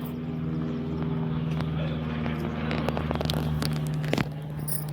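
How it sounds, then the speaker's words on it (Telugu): A helicopter passes overhead on a graduation day outing, its low droning rotor hum steady and moderately loud, with people talking close by over it. "పైన హెలికాప్టర్ పోతుంది."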